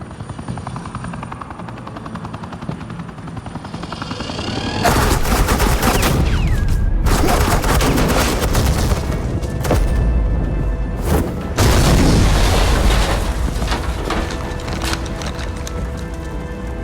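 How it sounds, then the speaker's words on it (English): Suppressing gunfire in Batman: The Enemy Within erupts as a loud, dense roar of shots over a steady helicopter-like drone, starting a few seconds in and breaking off briefly near the middle before resuming. "Suppressing fire."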